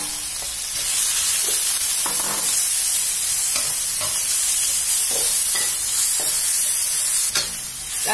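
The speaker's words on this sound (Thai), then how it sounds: "เราจะผัดจนรู้สึกว่าตัวผักของเรานิ่ม" Steady sizzling and frying with repeated scraping stir strokes of vegetables in a hot pan, loud and close, no talking, while making sauce for chicken spaghetti.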